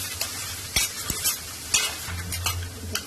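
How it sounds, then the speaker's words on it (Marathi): Curry leaves sizzle as they are sautéed in hot oil in a pan for a Konkan chicken thali, with a steady fry hiss and clinks of a stirring spoon against the pan. "कढीपत्ता टाकूया. चांगलं परतून घ्यायचं, चांगलं लाल होऊ द्यायचं त्याला."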